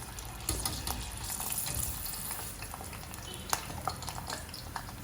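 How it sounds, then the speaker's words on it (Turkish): Steady sizzling and crackling of thin peppers frying in hot oil, with occasional clinks of a utensil stirring in the pan. "Kızgın yağda hepsini kızartıyorum."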